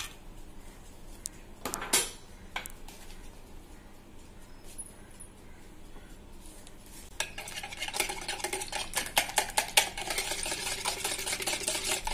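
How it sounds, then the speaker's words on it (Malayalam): A spoon stirs cake batter in a mixing bowl for an afluthoon sweet, quiet scraping and clinking against the bowl, growing busier and more continuous toward the end. "ഇനി നമുക്കിത് ഒന്ന് മിക്സ് ചെയ്തെടുക്കാം"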